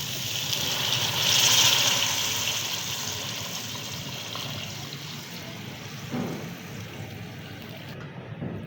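Yakhni stock pours onto fried chicken in a pot while Kabuli pulao is being cooked, a steady close-up wash of splashing liquid that swells and then settles into a softer simmering hiss.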